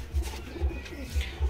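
Madras Giribaz pigeons coo in low, soft, rhythmic pulses, roughly four throaty coos repeating about every half second, close by with a faint background hiss.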